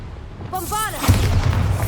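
Bombarda explosion spell in the Hogwarts Legacy video game: a short shouted incantation followed by a heavy booming blast with a rumbling tail, loud and close.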